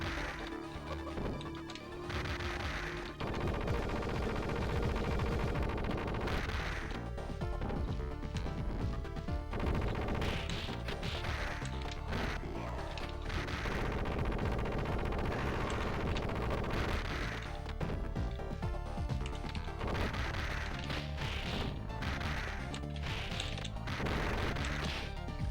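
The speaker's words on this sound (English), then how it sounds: "Mr. X is over there juggling his own guys with the machine gun." Streets of Rage 2 boss fight with Mr. X firing a machine gun: dense, continuous game audio with repeated crashing hits and rapid bursts layered over loud music, steady and unbroken throughout.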